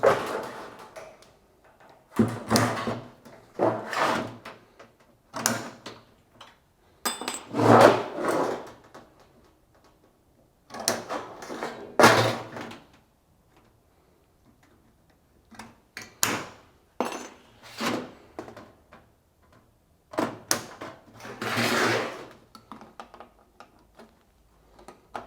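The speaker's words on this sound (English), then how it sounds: "So I'm going to notch all 4 corners here." Corners of a sheet metal four-piece duct transition being notched on site: bursts of sharp metallic clicks and snips come in irregular clusters, separated by short pauses, close and fairly loud, with no talking.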